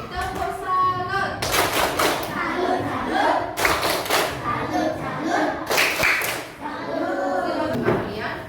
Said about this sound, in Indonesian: Oke, tepuk salut.